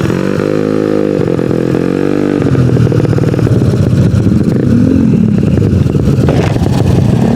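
A Yamaha Mio scooter motorcycle with a 200cc engine and a broken exhaust runs loud and close, with a rough, rattling idle that revs and surges steadily throughout.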